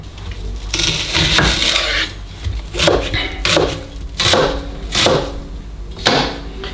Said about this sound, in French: Et maintenant on va émincer nos échalotes.